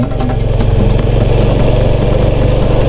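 A vehicle engine in first gear labours up a steep mountain road between Suan Phueng and Khao Krachom, giving a loud, steady, close droning rumble throughout with no talking.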